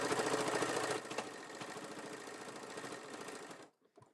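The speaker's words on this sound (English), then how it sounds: "And my sewing machine, like I said, she's a beast." A sewing machine stitches rapidly and continuously for a few seconds, a busy mechanical rattle close by, then stops abruptly.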